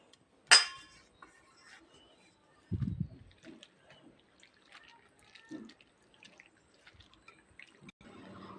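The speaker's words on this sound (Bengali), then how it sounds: "যতক্ষণ না আলুর একটা পরিষ্কার জল বেরোচ্ছে ততক্ষণ পর্যন্ত আমি আলুটা ভালো করে ধুয়ে নেব" Grated raw potatoes being washed in a bowl of water in a kitchen, with a sharp clink at the start followed by soft sloshing, splashing and dripping, quiet and close, with gaps between the sounds.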